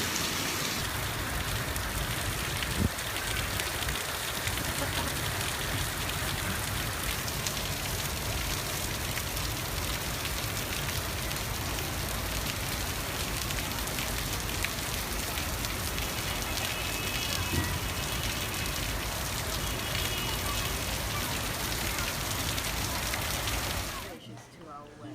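Heavy rain pours steadily in a dense, loud hiss of drops hitting surfaces, continuing unbroken before cutting off abruptly at the end.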